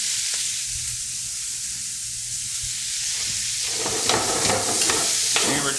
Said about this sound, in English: we're just going to saute these up for a little bit until they get nice and translucent